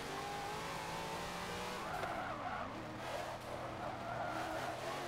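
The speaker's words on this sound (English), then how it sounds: "I'm locking these brakes up real easy" Car tires screech steadily under locked brakes in the racing game Forza 7, with a 1000-horsepower car held in a single gear, its engine droning loudly beneath a continuous, wavering squeal.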